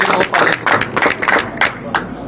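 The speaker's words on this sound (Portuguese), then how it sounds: "Palmas para a imprensa." Audience applause for the press at a political press event, a burst of many hands clapping that stays loud and steady for about two seconds.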